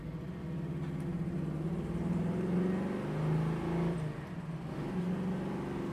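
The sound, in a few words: 1969 Chevrolet Nova Yenko style running while driving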